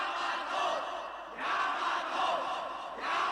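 A crowd of people in a Space Battleship Yamato anime cheers and shouts in rolling waves, swelling twice then easing, a dense mass of voices with no single speaker.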